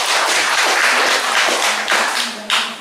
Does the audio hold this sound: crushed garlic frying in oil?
no